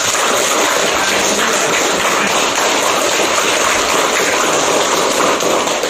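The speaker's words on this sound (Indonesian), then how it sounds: "sekali lagi tepuk tangan dulu ya." Sustained applause from a group of schoolchildren, a dense even patter of clapping that stays loud and steady throughout without any talking.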